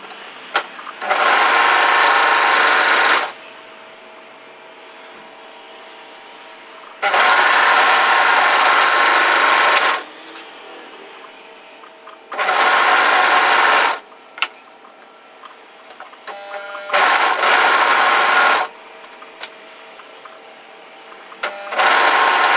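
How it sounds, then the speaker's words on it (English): An overlocker stitches the hem of a relaxed-fit sweatshirt body in four loud, steady whirring runs of about two seconds each, separated by quiet pauses. "And then overlock through the body hem."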